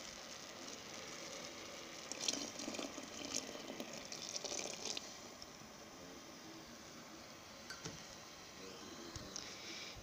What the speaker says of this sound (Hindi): इसमें अभी हमने डाला आधा किलो दूध।